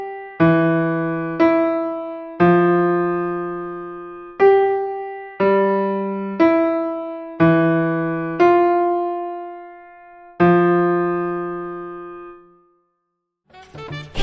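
Slow piano lesson piece with the hands taking turns rather than overlapping: about nine clear, separate notes and dyads, each struck and left to decay, with a pause before a brief noise at the end.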